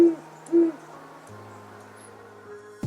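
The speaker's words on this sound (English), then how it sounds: "you'll start to hear the classic hoot sound that'll lead you right to them" Great horned owl in Golden Gate Park, San Francisco, giving two low, clear hoots close together, near and prominent, followed by quieter ambient tones and a sharp click at the end.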